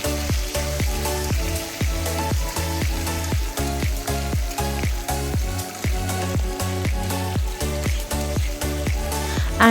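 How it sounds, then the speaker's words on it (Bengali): Potatoes frying in a pan for a Bengali small-fish dish, giving a loud continuous sizzle overlaid with regular rhythmic knocks of a utensil against the pan about twice a second. "এবার আমি আলুগুলোকে হালকা একটু লাল লাল করে ভেজে নেব"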